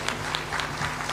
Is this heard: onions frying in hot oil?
no